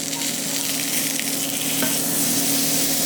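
Salmon fillet fries in a pan with a steady, loud, close sizzle and a brief scrape as it is turned; no talking.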